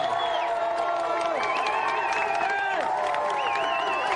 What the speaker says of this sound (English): of applause for Edo and Paul